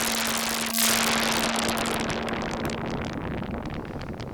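A Behringer Edge synth's noise generator modulates its filter cutoff, making a dense hissing, crackling synthetic texture with a steady low tone underneath and a bright sweep near the start.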